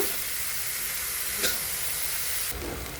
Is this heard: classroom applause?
no